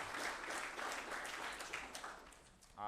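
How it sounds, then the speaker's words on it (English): A Bitcoin conference audience applauds in a steady wash of clapping at a distance, ending abruptly as a voice cuts in. "Next up, round of applause,"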